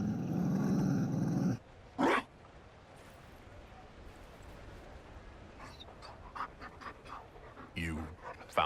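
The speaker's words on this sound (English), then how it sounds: "You found a dog?" A Mabari war dog in Dragon Age: Inquisition pants and growls in short bursts after a loud opening of game noise, the sounds close and fairly quiet, with intermittent low rumbles between them.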